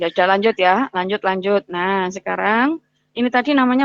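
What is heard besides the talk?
No distinct noise like a dog, phone or traffic.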